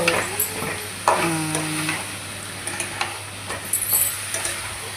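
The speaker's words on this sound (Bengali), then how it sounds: "এখন মাংস আর আলুগুলো দিয়ে দিলাম, আলুগুলো ফ্রাই করে নেব" Chicken pieces and potatoes fry in hot oil with a steady close sizzle while a utensil stirs and scrapes through them in short bursts.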